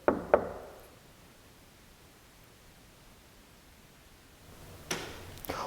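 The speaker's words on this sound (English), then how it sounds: "Can you knock on something perhaps, just like this?" Two sharp knocks on wood ring out in a chapel, then a long stretch of near-silent hiss, then two more knocks near the end, each loud and close.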